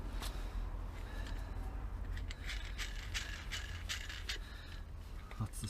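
A brake caliper piston rewind kit on a 2004 Volvo XC90 rear brake, being tightened by hand, gives a steady series of quiet metallic ratcheting clicks and creaks over low background rumble.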